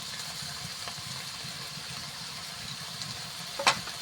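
Vegetables sizzle steadily in a pan with cumin, turmeric and salt as they are stirred, a soft continuous fry with one brief scraping clatter near the end.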